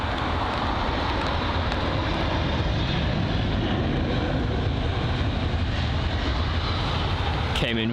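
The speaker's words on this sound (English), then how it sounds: "Came in very fast there, the A320 CEO." An Airbus A320ceo airliner lands fast at London Heathrow, with a loud, continuous engine roar and broadband rumble that holds steady throughout.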